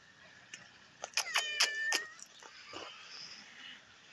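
A cat gives several short, close meows in a quick run, with a fainter call afterward, in a quiet outdoor setting.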